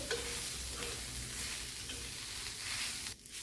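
Crushed raw green chili thecha sautés and sizzles in a pan while being stirred, a steady close frying hiss with scraping stir sounds, no talking, easing off briefly near the end.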